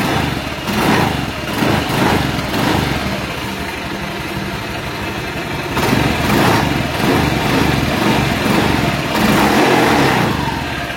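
A Honda Vario 150 scooter runs in bursts of revving, the engine note rising and falling over a rattly, hissing noise from the CVT, loud and close.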